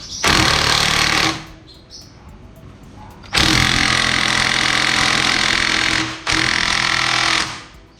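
A Makita DTW190Z cordless 18V brushless 1/2-inch impact wrench rated at 190 Nm hammers on a tight fastener in three loud, rattling bursts, the second one longest, with short quiet gaps between them.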